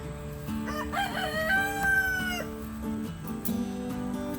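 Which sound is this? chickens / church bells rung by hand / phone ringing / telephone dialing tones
chickens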